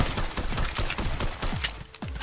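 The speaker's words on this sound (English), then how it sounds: "got a machine gun again" A machine gun fires in the VR video game Silicon Rising during robot combat: a rapid, close burst of punchy shots in quick, even succession, loud and alone with no talking.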